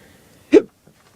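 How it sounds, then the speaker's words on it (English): A single sharp hiccup, close and sudden, stands alone in a quiet room with faint background hum. "Random hiccups in the middle of my videos."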